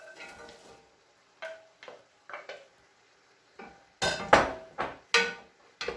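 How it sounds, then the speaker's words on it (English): Chunks of potato dropped into a pot of green chile stew, a series of close knocks and clatters against the pot with brief pauses, louder tumbling near the end. "now I'm going to add in, the potatoes"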